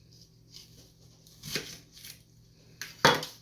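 A knife cuts a red onion into thick slices on a board, giving a few distinct, close chopping knocks with quiet gaps between them.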